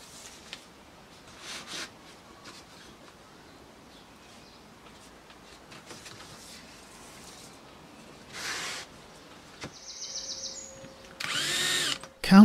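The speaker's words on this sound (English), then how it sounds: "Countersinking the holes just a little ensures the heads of the screws will be below the surface and out of the way" A power drill countersinks screw holes in laminate panels for a museum display, a few short whirring bursts near the end after a quieter stretch of faint workshop noise.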